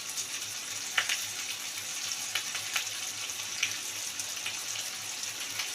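Fish masala with shankar (stingray) fish sautés in a pan, a steady sizzle with occasional sharper spatters and scraping stirs, close and fairly loud, with no talking.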